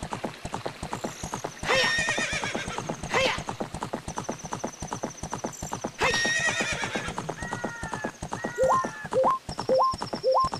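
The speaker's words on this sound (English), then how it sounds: "I gotta remember not to sprint with the horse." Epona, the horse in the video game Zelda: Ocarina of Time, galloping with rapid, steady clip-clop hoofbeats throughout, broken by two loud neighs, along with game chimes and sound effects.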